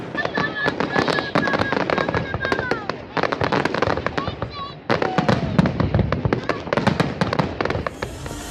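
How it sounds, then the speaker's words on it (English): A mammoth fireworks display bursts over a lakefront at a Dutch fun fair, with dense, continuous crackling and popping bangs rattling on for several seconds with hardly a pause. "A mammoth fireworks display on the lakefront is equally compelling."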